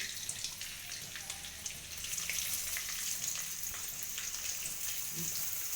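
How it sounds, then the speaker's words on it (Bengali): Onions frying in oil in a wok for biryani, a steady close sizzle with faint crackles throughout, no talking. "একটু পেঁয়াজ দিচ্ছি"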